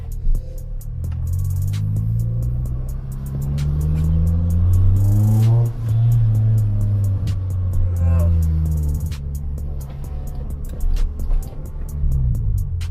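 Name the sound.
Toyota Corolla car driving along a street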